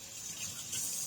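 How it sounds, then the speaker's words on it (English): Water pouring steadily onto the soil of a freshly repotted, previously root-bound houseplant, a continuous close splashing trickle with no talk. "Pouring some water."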